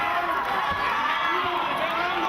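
Vocal crowd cheering and shouting throughout a Bodog Fight bout between John Turner and Matt Troyer, a continuous roar of voices that fills the background under a commentator's talk.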